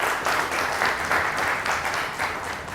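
Audience applause at a silver jubilee award show in Chitral: steady, dense clapping from a sizeable crowd, even in level and sustained throughout without pauses.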